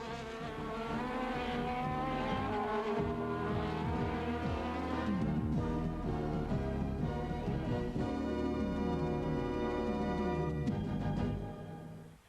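Formula Super Vee race cars on the Addison SCCA street circuit, 1989, circling under a yellow flag behind the pace car, a steady loud engine drone with revving passes, continuous throughout.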